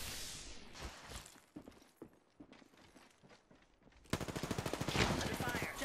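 Gunfire in Apex Legends: scattered, fairly quiet shots and mechanical clicks at first, then a loud burst of rapid automatic fire with evenly spaced shots in the last couple of seconds.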